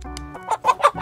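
A chicken on a ranch clucks close by, a few short bursts following a brief low call, loud and distinct with no talking.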